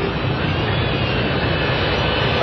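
A Boeing 757 cargo plane prepares to take off at Bergamo, Italy, with a steady, loud jet roar that holds even throughout, and no voices.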